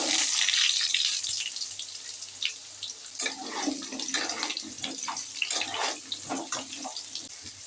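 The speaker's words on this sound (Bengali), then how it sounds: "তেল আমার গরম হয়ে গেছে, এবার আলুগুলো দিয়ে দিচ্ছি।" Potatoes drop into hot mustard oil and sizzle, a hissing crackle that swells and settles in uneven bursts, close and fairly quiet.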